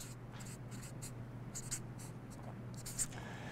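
Pen writing on paper in quick, soft scratching strokes, close and faint over a low steady background hum.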